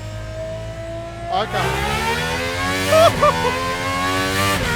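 A GMA T.50s V12 engine revs hard against the pit limiter in second gear, rising in a loud, close, high-pitched wail with stuttering cuts at the limiter; a single short word is spoken over it.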